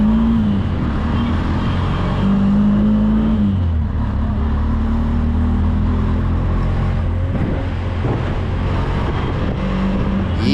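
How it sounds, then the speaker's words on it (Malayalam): Heavy, congested road traffic on a sunny street near Rameswaram, with a steady loud rumble of engines, vehicles passing close by and horn-like tones rising and falling throughout. "ഇവിടെ റോട്ടിലൊക്കെ നല്ല ട്രാഫിക് ബ്ലോക്കാണ്, നല്ല തിരക്കുണ്ട്"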